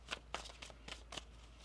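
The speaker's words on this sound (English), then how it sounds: "One more shuffle." Soft, quick papery riffles of tarot cards being shuffled, several short bursts spaced unevenly, fairly quiet and close with no talking.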